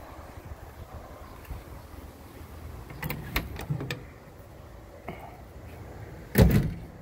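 Door of a 1995 Chevy G30 Leader ambulance van: quiet background, then a series of sharp clunks and latch clicks, ending in one louder, close slam near the end.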